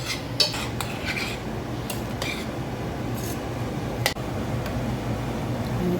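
A spoon stirs macaroni and cheese in a pot over low heat, with close metallic scrapes and clinks against the pot and a few sharper knocks over a soft, steady background.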